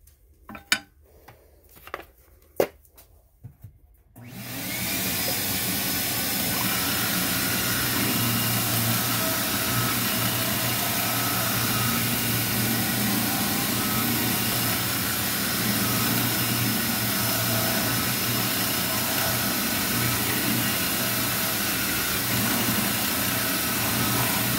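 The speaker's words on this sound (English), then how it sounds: "So let's get going with the spindle sander." A spindle sander shapes a wooden slingshot: a few faint clicks are followed by the machine starting up into a loud, steady whir that runs unbroken for about twenty seconds.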